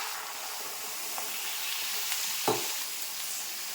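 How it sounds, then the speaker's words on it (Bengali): Half a cup of water poured onto sugar melting in a pan for a thick ladoo syrup, giving a steady broadband sizzle and steam hiss throughout with a brief sharper burst midway, no voices. "চিনিটা গলে আসছে দেখুন আমি যেটাতে চিনি মেপেছিলাম সেইটাতে হাফ কাপ জল দিয়ে দিচ্ছি"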